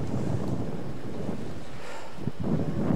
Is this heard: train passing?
no